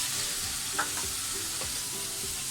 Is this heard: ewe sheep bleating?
no